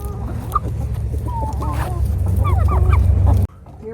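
Chickens and turkeys cluck and call in a busy outdoor flock, several birds overlapping with a steady low rumble beneath, the chatter continuing for a few seconds before cutting off abruptly.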